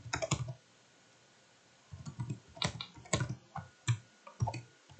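Close, quiet keystrokes on a computer keyboard: a quick cluster of taps, a pause of over a second, then a longer run of irregular clicks in small bursts.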